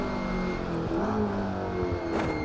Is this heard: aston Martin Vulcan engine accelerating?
yes